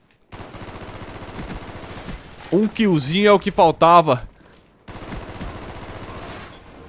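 Rapid bursts of automatic gunfire from Call of Duty Black Ops run through most of the clip as dense repeated shots, pausing briefly while someone speaks excitedly over it.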